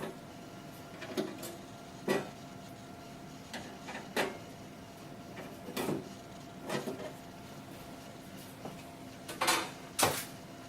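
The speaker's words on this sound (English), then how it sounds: "Remove the lid and remove the side panel." The lid and side panel come off a BIBBY A8000 water distiller, giving scattered metallic clunks, scrapes and knocks at irregular intervals, close and fairly faint, with no talk.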